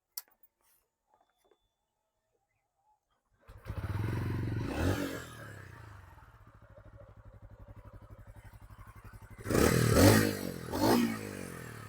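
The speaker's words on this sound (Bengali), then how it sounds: "চলুন তাহলে নেক্সট দেখে নেওয়া যাক এই বাইকটার যে এক্সস্টের সাউন্ডটা আমি আপনাদেরকে দেখিয়ে দিচ্ছি।" A TVS Ronin 225 motorcycle exhaust starting after a few seconds of silence, settling into a steady low idle, then two louder revs near the end, close and alone with no talk.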